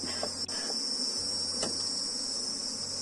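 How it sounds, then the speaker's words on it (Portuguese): A dense, populous honeybee nucleus colony gives off a steady, high insect hum that carries on continuously with no one speaking. "Observem, ó, que tem muita abelha nesse núcleo."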